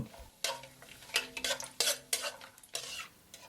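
Cardamom pods, cinnamon sticks and bay leaves fry in hot oil for a beef bhuna, a soft sizzle broken by several sharp scrapes and clinks of a spoon stirring in the pan, close and fairly quiet.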